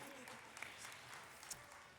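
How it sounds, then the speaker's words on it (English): An audience applauds at a business school graduate commencement ceremony, a faint distant wash of steady clapping from a large crowd. "Special round of applause here."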